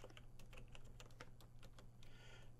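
Rapid, faint keyboard keystrokes in an uneven, steady patter, close and quiet with no voice.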